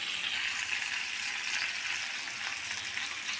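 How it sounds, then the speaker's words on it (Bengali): Lentil fritters of jackfruit seed, potato and dal sizzle steadily in hot oil in a wok, a dense, continuous frying hiss at close range with no one talking. "এটা বড়াটা ভেজে নেবো এই কড়াইতে"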